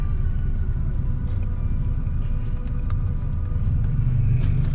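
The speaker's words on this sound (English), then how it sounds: "one car coming in, bringing up the rear" A car rolling in at the rear behind ambulances, a loud steady low engine rumble close by that holds evenly throughout and swells slightly at the end.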